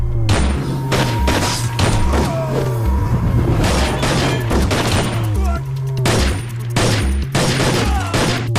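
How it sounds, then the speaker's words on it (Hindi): Dense gunfire rattles through a movie shootout, with rapid overlapping shots, heavy thumps and booms, and rhythmic low pulses of a dramatic score running underneath the whole time. "कंट्रोल रूम, यहाँ शूट आउट चल रहा है।"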